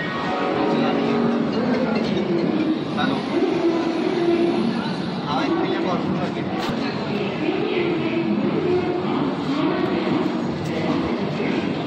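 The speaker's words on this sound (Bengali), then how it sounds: "ফাইনালি 5 মিনিট লেটে 7:20 আমাদের ট্রেন ছাড়লো।" A passenger train, the Howrah to Amritsar Mail, departs and rumbles along steadily with continuous wheel and carriage noise, voices murmuring faintly beneath it.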